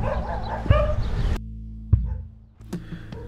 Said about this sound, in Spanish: Los perritos vienen a ladrar.